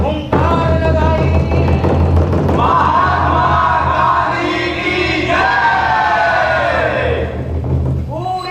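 Thousands of Pathan agitators roar in Peshawar's Qissa Khwani Bazaar during a stage play, a loud, sustained crowd shout that swells and falls over several seconds, with stage music and voices mixed in.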